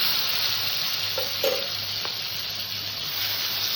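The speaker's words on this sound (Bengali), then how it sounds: "ফোড়নটা ভাজা হয়ে গেছে, অল্প করে একটু টমেটো দিয়ে দিলাম।" Tomato hits hot oil tempered with black cumin, a steady sizzle and crackle throughout, with a few brief sharper spits.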